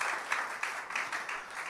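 Church congregation clapping hands in praise during a worship service, a fast, even rhythm of claps by many people, moderately loud and without talking.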